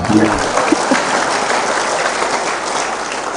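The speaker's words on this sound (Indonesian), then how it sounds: "Ya, tepuk tangan dong." Audience applause at an Islamic lecture, a dense wash of hesitant clapping from a gathered crowd, steady and even, with a brief voice at the start.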